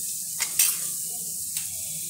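Turmeric tipped into hot oil in a pan for a bitter gourd and potato curry gives a steady, close sizzle with a few brief stirring scrapes and no talking.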